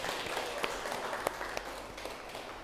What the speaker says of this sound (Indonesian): tepuk tangan untuk Adel dan Musa.